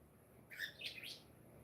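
Pet birds burst into quick, agitated chirps and squawks after one falls, a short faint flurry of bright calls lasting about a second over quiet room noise.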